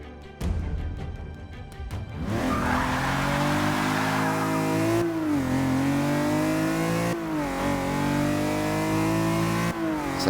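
A BMW M6 set up as a B-class car in Forza 6 revs its engine steadily while driving, a loud continuous drone with rising and falling pitch and brief shifts, alone without talk.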